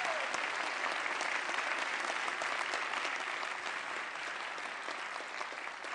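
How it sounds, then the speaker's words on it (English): A church congregation applauds children after a Christmas service performance, a dense, steady wash of many hands clapping that holds at even volume for the whole stretch before easing slightly near the end. "Let's give the kids another round of applause."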